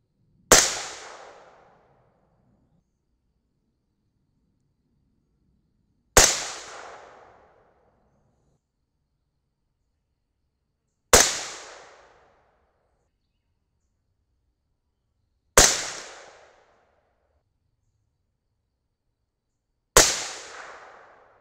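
Five sharp .223 Remington rifle shots fired one at a time while shooting a group, each a loud crack with a short decaying tail, spaced roughly five seconds apart with silence between.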